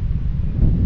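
Wind gusting by a rocky shore at low tide, a brief low buffeting rumble against the microphone.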